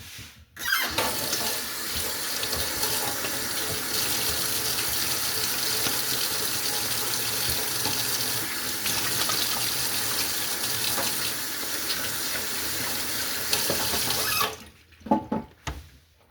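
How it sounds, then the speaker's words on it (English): A kitchen tap runs in a steady, close, full rush of water into a sink while hands are washed, lasting about fourteen seconds before shutting off, followed by a few faint drips and handling sounds. "Let me wash my hands."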